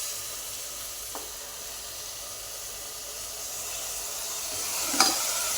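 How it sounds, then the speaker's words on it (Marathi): Sprouted horse gram frying in a pan, a close, steady sizzling hiss with occasional stirring scrapes and a sharper clatter near the end. "ही फुलगीची उसळ आहे ना मोड आलेले ती टाकायची आता"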